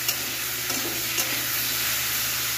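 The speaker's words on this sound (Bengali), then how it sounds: "চাপা দিয়ে দিয়ে ভাজা করে নিই" Salted, turmeric-dusted okra and potatoes sizzle steadily in a hot pan, with light scraping stirs now and then, heard up close and alone.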